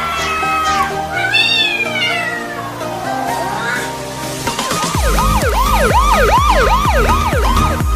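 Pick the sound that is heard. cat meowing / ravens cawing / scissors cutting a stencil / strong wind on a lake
cat meowing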